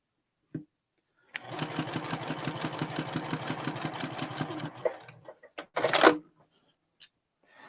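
A sewing machine stitching quilt corners, running in a fast, even rhythmic burst of needle strokes for several seconds, followed by a few clicks and a brief louder clatter.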